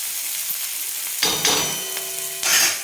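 Chopped onion sautés in oil with a soft, steady sizzle, broken by two louder bursts of stirring as a metal spoon clinks and scrapes against the pan.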